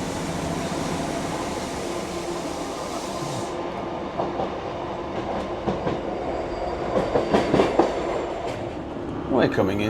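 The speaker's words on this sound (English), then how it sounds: "Dread to think how much they've paid on that train." A train rolls along the rails on the Settle line, likely hauled by the steam locomotive Tangmere, with a steady rumble and rhythmic clickety-clack joints growing louder and closer toward the end.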